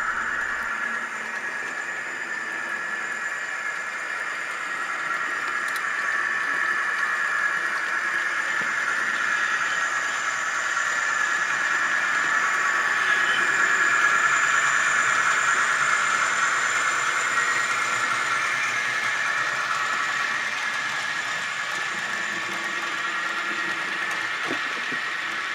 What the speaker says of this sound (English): this time the locomotive had no trouble making it around, no funny stalls, no weird derailments, just ran nice and smooth